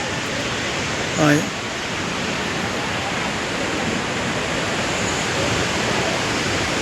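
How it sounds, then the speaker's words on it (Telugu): Saraswati river flowing near its confluence with the Alaknanda, a steady broadband rush of mountain water heard continuously and fairly loud, with a brief faint vocal-like chirp early on. "ఇది సరస్వతి నది ప్రవహించేది"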